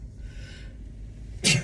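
A single sharp human sneeze bursts out near the end, close and loud after a stretch of quiet room tone.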